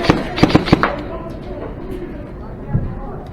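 An airsoft grenade goes off during a game at an indoor airsoft arena. Several sharp bangs come in quick succession near the start, then a fainter thump follows, while players talk and shout in the background.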